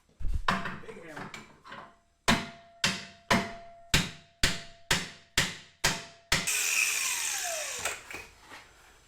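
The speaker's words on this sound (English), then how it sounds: "Big hammer." A heavy hammer strikes wood about a dozen times in a steady rhythm, loud and close, with sharp cracks and ringing decay.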